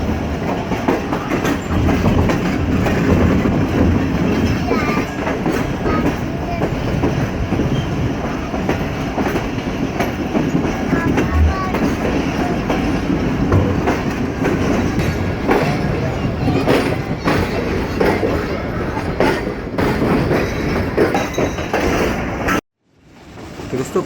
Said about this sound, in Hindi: हमारी ट्रेन हैदराबाद रेलवे स्टेशन पर अराइवल कर रही है और हम इस वक्त ट्रैक चेंज करते हुए